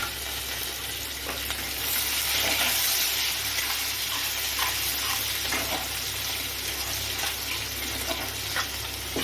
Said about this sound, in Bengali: এখন এই পেঁয়াজকে কেটে রেখেছি, এটা তেলের মধ্যে দিয়ে দেবো।